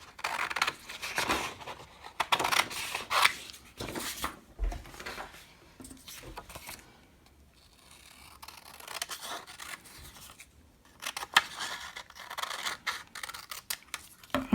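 Scissors snip through a very large piece of paper for a pop-up card, bursts of crisp cutting strokes up close with pauses between, no talk.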